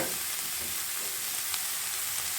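Drumstick leaves and roasted carrot frying in a pan for a chickpea usli, a steady close sizzle with faint stirring scrapes throughout and no talking.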